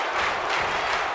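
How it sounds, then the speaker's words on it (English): A stadium crowd at a tag team wrestling event in Tampa Bay roars and screams steadily, a dense wash of cheering with no distinct voices standing out. "And the crowd screaming,"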